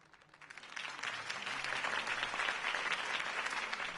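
Loud, sustained applause from a crowd in the video game Batman: The Telltale Series, swelling in after a quiet start and continuing steadily.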